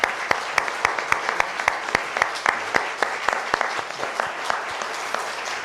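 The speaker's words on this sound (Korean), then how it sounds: "한번 박수로 한번 이렇게 기원하도록 하겠습니다" A church congregation claps for its elders during a Sunday worship service, a fairly quiet wash of hands with a few sharp, louder claps standing out in an irregular rhythm.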